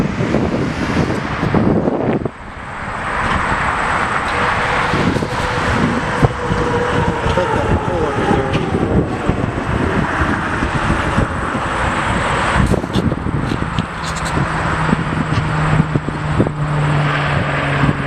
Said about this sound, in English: That is United, whatever that is, taxiing away.